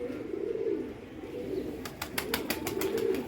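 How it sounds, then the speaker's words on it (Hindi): A pigeon settling onto a rooftop perch coos in low, soft rolling phrases, then a quick series of sharp wing claps bursts out close by as it lands, the cooing continuing beneath. "एक और आया हुआ है कबूतर बैठने पे"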